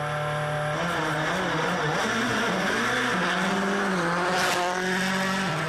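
A rally car in the 2010 WRC Rally Sweden sets off on a snowy stage on studded tyres, its engine loud and revving through gear changes, with a bright scrape near the end.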